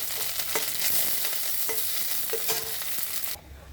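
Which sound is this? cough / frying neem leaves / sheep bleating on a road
frying neem leaves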